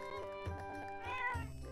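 A cartoonish cat meows once in The Legend of Zelda: Echoes of Wisdom, a short, clear game sound effect with rising and falling tone and no talk over it.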